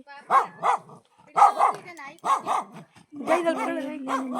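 A dog barks nearby in repeated paired woofs with short gaps between bursts, and a person's voice talks over the later barks.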